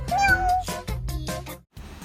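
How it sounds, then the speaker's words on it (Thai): Two small kittens meow close up in a home, several quick, high, bending cries in succession with a short pause before the last, and a voice mixed in. "อะไรของสูเนี่ย ฮะ อะไรของสู แมวน้อยสองตัวนี่แม่ เธอไปนั่งหาพี่เคนทำไมล่ะ"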